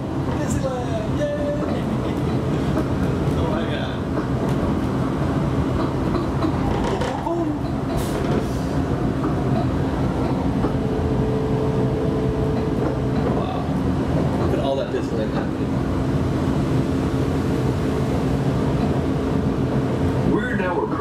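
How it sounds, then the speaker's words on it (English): Disneyland monorail gliding into the Tomorrowland station with a steady rolling hum and rumble, while an onboard voice narrates over it throughout. "approaching the Tomorrowland monorail station, our final destination"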